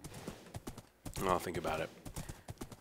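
Rapid hoofbeats from a galloping horse in the video game Minecraft, a quick steady clip-clop rhythm under a person speaking.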